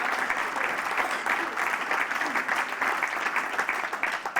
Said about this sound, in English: So you should clap for that.